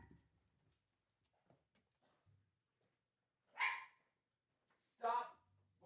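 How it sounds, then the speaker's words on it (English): Two loud, close barks from small dogs, a five-pound papillon among them, burst out alone after a stretch of quiet shuffling and faint low sounds, the second bark fuller and followed by a low hum. "Can I close this door on these dogs?"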